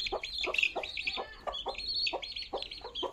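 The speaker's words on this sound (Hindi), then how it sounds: "ये देखिए भाई मुर्गी गई, अब इसके साथ साथ बच्चे भी चले जाएंगे" A hen clucks in quick repeated bursts while her chicks cheep in high, thin peeps around her, close and fairly continuous.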